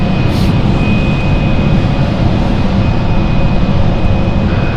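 An aircraft departs London City Airport with a loud, continuous roar of engine noise, broad and rumbling, steady throughout at close range.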